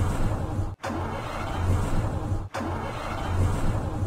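Diesel car engine in a video game test drive, a steady mid-low engine drone running continuously, broken by two brief sharp cutouts where the sound drops away before resuming, with no talking over it.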